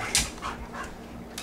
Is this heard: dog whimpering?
yes